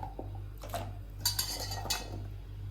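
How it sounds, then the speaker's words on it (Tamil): A few metallic clinks and scrapes of a utensil against a pan as cut elephant foot yam pieces are tipped in, close, over a steady low hum. "இப்போ வந்து கட் பண்ண சேனக்கிழங்கு அதை சேர்த்துக்கிறேன்."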